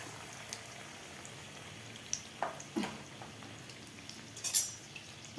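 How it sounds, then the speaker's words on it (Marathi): Battered palak rolls deep fry in oil, giving a faint, low bubbling sizzle with a few soft clinks and taps of a utensil against the pan. "आता व्यवस्थित आपल्याला हे गोल्डन कलर होईपर्यंत तळून घ्यायचे आहेत."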